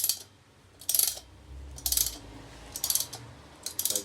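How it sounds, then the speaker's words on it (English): Ratchet spanner clicking in short bursts while seating a front wheel bearing on a Yamaha Fazer FZS600 motorcycle, four or five quick metallic ratchet runs with pauses between, close and clear with no talking. "just ratchet this one in, and I'm going to watch them both go."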